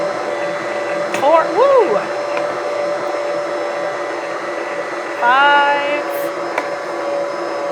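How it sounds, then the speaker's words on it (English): An electric mixer kneads spelt bread dough made from fresh-milled grain, its motor droning steadily the whole time while a voice counts and exclaims over it. "I'm going to turn my mixer back on and keep adding flour"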